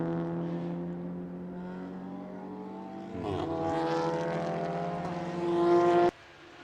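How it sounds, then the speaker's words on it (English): Wochenspiegel race car with four new tyres pulling out of the pit lane at Monza during a 12-hour endurance race, its engine note droning steadily, then rising and revving harder before cutting off abruptly. "so out goes the Wochenspiegel car, 4 new tyres on it"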